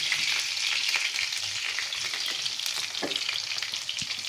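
Vegetables with green chilies and papaya stir-frying together in a pan for restaurant-style fried rice, a steady loud sizzle with scraping stirs running throughout, no voices.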